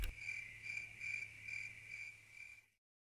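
A cricket in the Pocoyo PlaySet learning game chirps in short, evenly spaced pulses, clear and steady against a quiet background, then stops abruptly into silence.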